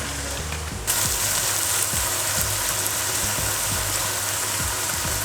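Garlic, ginger and chili sizzle in hot oil for buckwheat soba noodles, a steady close crackle that starts suddenly and runs on, with soft stirring knocks scraping through it.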